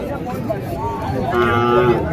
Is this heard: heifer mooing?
yes